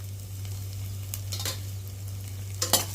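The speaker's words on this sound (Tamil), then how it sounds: "நம்ம போட்ட மிளகு, சீரகம், வெந்தயம்லாம் நல்லா பொரிய ஆரம்பிச்சிருச்சு." Pepper, cumin and fenugreek splutter in hot oil for a Tamil fish curry, with faint crackles over a steady low hum and a couple of sharper pops near the end.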